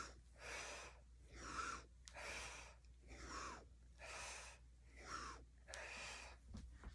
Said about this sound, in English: it's good to breathe like this